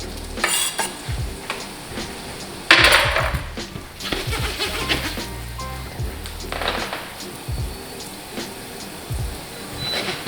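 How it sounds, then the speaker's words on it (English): Onions cook in hot oil in a pan, a steady sizzle broken by sharp bursts of spitting and scraping stirs, close and fairly loud, with no voices. "Now I'm going to put some oil in my pan to start cooking the onions."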